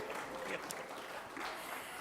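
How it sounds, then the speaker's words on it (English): Audience applause at a press meet for a supermarket brand ambassador announcement, a soft, distant wash of clapping from the crowd throughout. "Let's hear a round of applause for that."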